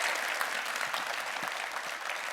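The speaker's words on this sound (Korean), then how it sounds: "시원한 답변에 박수 부탁드립니다." Studio audience applauding during a live New Year's special televised town-hall broadcast in Incheon, steady dense clapping filling the whole stretch at moderate level with no voices over it.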